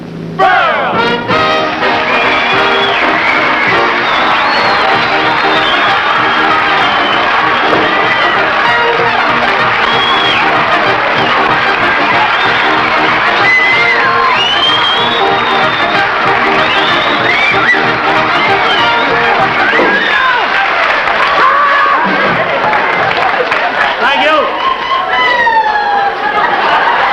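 A live studio audience on the Texaco Star Theater cheers, whistles and applauds loudly for Milton Berle's entrance, a long, sustained roar of clapping and shouts that keeps going throughout.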